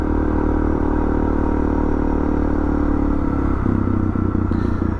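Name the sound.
DR650 motorcycle riding uphill on dirt trail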